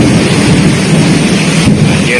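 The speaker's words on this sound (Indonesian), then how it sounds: "ini di kebun Angel Garden sedang hujan deras ya" Heavy rain pours over a flooded grape garden during a lightning storm, making a loud, unbroken roar with rumbling wind-like buffeting close to the microphone.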